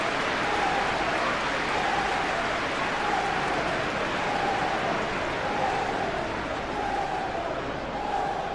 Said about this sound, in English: it's applause all round us here